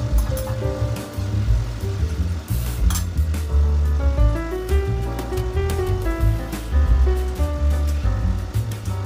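Onions frying in a pan for birista sizzle loudly and continuously, with a dense crackling hiss close by and some music-like tones layered over it.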